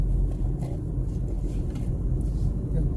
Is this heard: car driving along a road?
yes